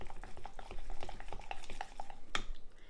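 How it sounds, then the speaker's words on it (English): An ingredient stirred into melted butter makes a quiet sequence of soft scrapes and small spoon-on-pan clinks with a faint sizzle underneath, ending in a brighter tap. "I'm just going to stir this in"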